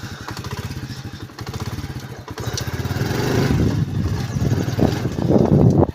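A motorcycle arriving at a village field, its engine thumping in a rapid pulse that grows louder and rougher as it comes closer, with no talk over it.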